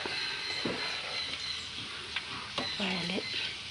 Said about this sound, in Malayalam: ചാറൊക്കെ തിളച്ച് വറ്റി